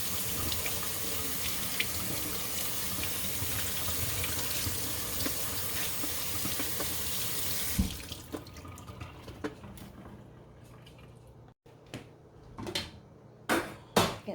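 A kitchen sink tap runs in a steady, fairly loud stream while a dishwasher grid is rinsed under it. The water then shuts off, leaving scattered drips and soft clatter nearby.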